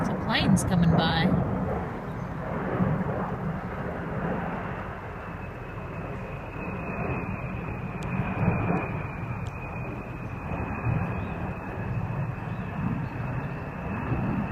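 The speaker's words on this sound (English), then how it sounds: "Some planes coming by." Aircraft engine drone from planes passing overhead outdoors in woodland, a steady broad roar that holds through the whole stretch, with someone talking briefly near the start.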